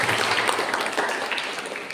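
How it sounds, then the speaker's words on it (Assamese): A church congregation claps loudly together, a dense, steady wash of applause filling the room throughout. "জোৰকে তালি বজাই"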